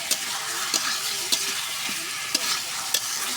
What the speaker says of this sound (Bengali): তো দেখেন আমার আলুটা কষানো হয়ে গেছে